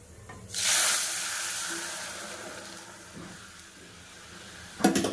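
Dal poured into hot oil tempered with panch phoron gives a sudden loud hiss that slowly fades into a steady sizzle, with a sharp clatter near the end.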